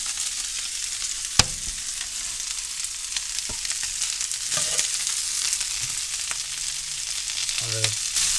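Steak sizzles steadily in a hot pan, a continuous broadband hiss of searing with a few sharp clicks and soft utensil knocks scattered through.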